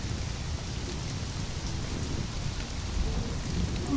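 Steady heavy rain hisses through a thunderstorm in the video game Conan Exiles, a dense unbroken wash with low rumbling underneath and no voices.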